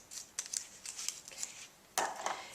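Scissors snip through excess cellophane plastic bag material on a handmade slider card, a run of crisp close cuts with a louder crunching snip near the end.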